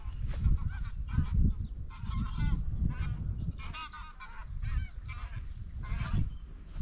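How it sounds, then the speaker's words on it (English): A flock of geese honks repeatedly in overlapping bursts, fairly close, over an estuary, with a low rumble of wind or water underneath. "Oh, they're coming back around, those geese."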